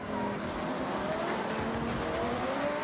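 A Koenigsegg Gamera races in a video game, its engine roaring steadily with tire noise, continuous and fairly loud with no talk.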